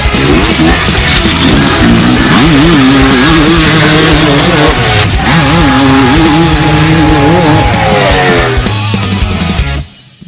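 A two-stroke dirt bike engine runs close and very loud, its pitch wavering up and down through repeated throttle blips before dropping off sharply at the end.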